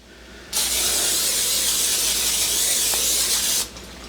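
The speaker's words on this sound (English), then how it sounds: "In a 9x9 pan, we're going to grease" Cooking spray coats a 9x9 baking pan in one continuous, close hiss of about three seconds, starting and stopping abruptly against a quiet room.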